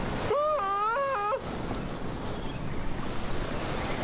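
Ocean waves wash onto a beach with a soft, continuous rushing and surging. A voice speaks briefly at the start, then the surf carries on alone at a moderate level.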